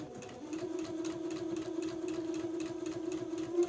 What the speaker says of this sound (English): I'm just going to start, sewing in a straight line along the edge of the fabric